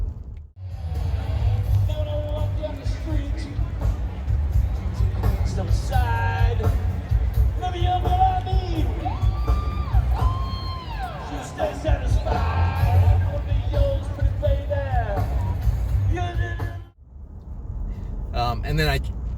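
A large outdoor crowd fills a parking lot before a stage at a Trump 2020 kickoff rally, a steady dense roar of many voices with scattered yells and a loudspeaker voice carrying over it, until it drops off abruptly near the end.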